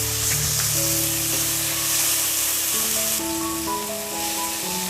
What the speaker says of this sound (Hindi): अब अदरक और हरी मिर्च हमारी फ्राई हो गए हैं और अब हम इसमें टमाटर डाल देते हैं